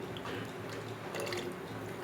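Three to four glasses of water splash into a pot of beef pulao on the stove, a continuous gentle pouring and trickling sound, fairly quiet and with no talking.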